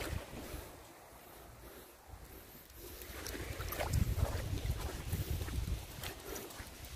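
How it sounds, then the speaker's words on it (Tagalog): Waves wash against a calm, clear-water shore with a steady hiss, then swell into a louder, fuller rush of surf mixed with gusty wind buffeting the microphone. "Wow. Ang dagat ah."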